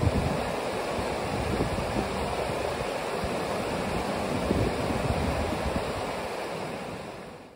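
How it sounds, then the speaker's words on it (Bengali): Wind blows steadily near Laguna Torre, a glacier lake below the mountains at El Chaltén in Patagonia, in light rain, making a continuous loud rushing roar against the microphone that eases off at the end. "হাওয়া দিচ্ছে।"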